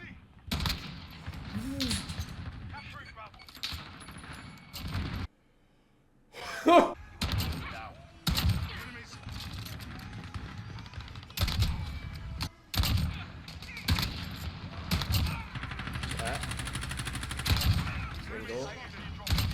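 Sniper rifle shots from the Modern Warfare video game, a few heavy single gunshots with short bursts of other gunfire between them and game action around them, and one brief quiet gap.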